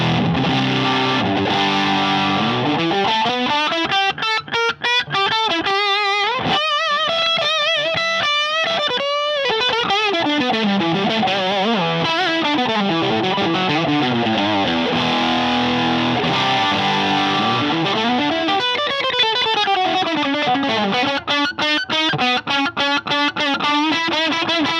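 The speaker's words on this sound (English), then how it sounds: "So what does it sound like now if we put it into overdrive?" An electric guitar played through a Marshall Mini Silver Jubilee 2525H amp in overdrive, set to 5 watt mode, giving loud distorted chords, bends and sliding note runs, continuous and alone without talk.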